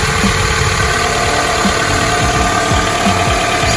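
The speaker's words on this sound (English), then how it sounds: "I just started the engine up and I'm checking for leaks" Engine of a 1993 Toyota Camry idling after a valve cover gasket replacement, a steady close rumble with faint rhythmic ticking pulses throughout and no voices.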